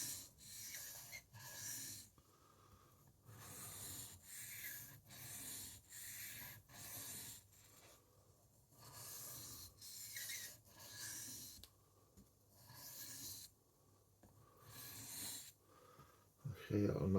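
A knife is sharpened by hand on a stone at a slightly raised angle, laying a small secondary bevel onto a chip-repaired edge: steady back-and-forth rasping strokes, close and fairly quiet, repeating in a regular rhythm, with a brief knock near the end.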